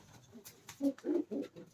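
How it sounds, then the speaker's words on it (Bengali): A captured pigeon, caught at home, coos in a few low, throaty pulses close by, the phrases rising in a short series after a quiet start. "এটা একটা ধরা কবুতর"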